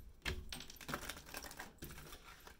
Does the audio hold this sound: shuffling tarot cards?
yes